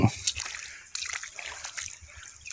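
River water splashing and sloshing in a clean mountain stream near a waterfall, a broken run of soft splashes and trickles at close range with faint outdoor rumble beneath.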